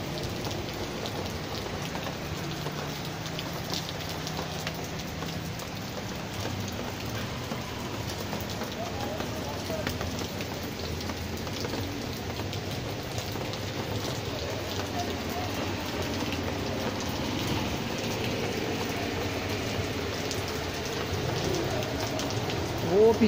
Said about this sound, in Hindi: और ये इस तरफ देखें किस तरह बारिश।